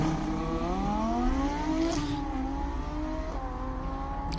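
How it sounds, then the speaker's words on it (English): An Audi R8 V10 race car at the Simola hill climb revs and climbs through the gears, a moderately distant engine wail with rising pitch sweeps and brief dips at each upshift. "I love the sound of that Audi."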